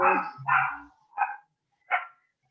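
A dog barks several times in short, loud, close bursts, with brief pauses between them and no talking.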